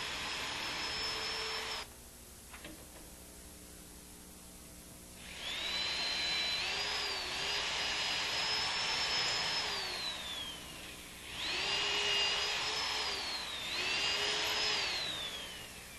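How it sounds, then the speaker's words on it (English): A power drill bores through a door for a handle or knob, guided by a clamped drill guide with sliding stops; a high whining motor runs in long bursts around 5–10 s and 11–15 s, pitch sagging under load, with quieter gaps between. "To drill for a handle or a knob on a door, set the sliding guides and stops, clamp in position, or hold by hand and drill."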